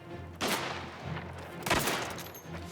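Gunfire in the Mafia video game, two bursts of rapid shots heard through game audio, moderately faint with a short gap between them.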